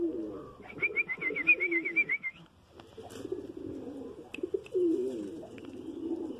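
Domestic pigeons coo softly and continuously in a home pigeon coop, low burbling calls close by, joined early by a short whistled trill and a few faint clicks.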